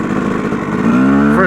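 Yamaha YZ250 two-stroke dirt bike engine idling with a rapid popping pulse, then revving up briefly at the end, loud and close.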